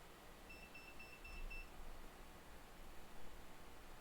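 Electronic beeps from 3D printer equipment sound faintly as a short run of quick, evenly spaced high pips over a steady hiss of room noise.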